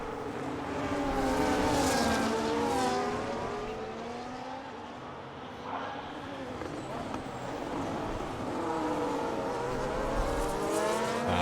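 Several F1 race cars in the F1 25 video game on the main straight at COTA, engines whining through rising and falling gear tones that overlap and sweep past during a close battle, with a commentator talking over them throughout.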